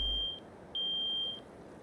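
Bite alarms in the Russian Fishing 4 video game beep as three long, steady, high electronic tones, each lasting about half a second. They are clear and evenly spaced over a low background hiss, with no talking.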